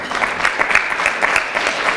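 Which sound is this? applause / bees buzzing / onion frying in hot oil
applause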